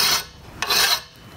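A hand file rasps across the end of a bicycle frame tube to shape a miter, with two long, close, loud scraping strokes separated by a brief pause.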